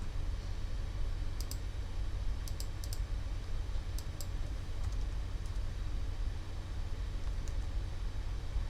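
A computer keyboard gives a handful of crisp key clicks in quick pairs and singles, spaced apart over a steady background hiss.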